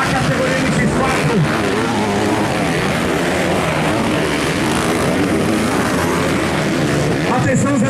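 Motocross motorcycles race in the intermediate class at a local 2024 motocross event in Jardim de Piranhas, Brazil, their engines roaring steadily and densely throughout, with a commentator talking over the noise.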